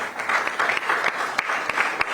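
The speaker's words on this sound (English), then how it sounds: "A big round of applause." A crowd applauds steadily, a dense patter of many hands clapping with a few sharper claps standing out.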